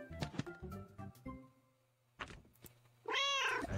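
A cat meows once near the end, a loud, drawn-out call standing out clearly after a stretch of speech and game sounds with a steady low hum underneath.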